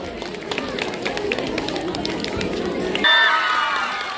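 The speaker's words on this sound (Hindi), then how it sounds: "जोरदार तालियां क्लास 7B के लिए।" Applause and cheering for class 7B at a school annual day and result ceremony, a busy wash of clapping, children's shouts and crowd noise that cuts abruptly to a different, brighter sound near the end.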